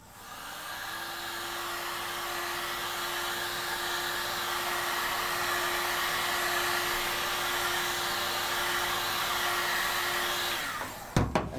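A heat gun warms Rhino matte heli tape for a bike, rising to a steady whirring blow for about ten seconds before it clicks off with a brief clatter.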